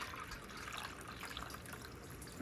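Homemade cold brew coffee filtering into a jar: a soft, continuous trickle and patter of liquid, faint and steady throughout with no voices.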